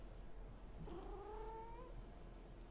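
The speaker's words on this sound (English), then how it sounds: "Oh, are you meowing into the microphone?" A pet cat meows straight into a microphone, one drawn-out, rising-and-falling meow in the middle over a faint steady hum, with no other sounds around it.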